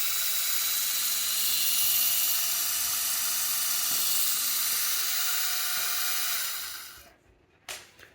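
A small Lego Technic electric motor spins a hub at high speed, giving a close, steady high-pitched whine that holds for several seconds, then cuts off abruptly, followed by a couple of faint clicks.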